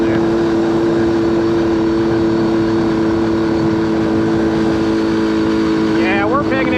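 A 1979 Honda Express moped engine runs at wide open throttle with a steady, loud droning buzz and slight sputter, nearby and continuous, while someone talks over it.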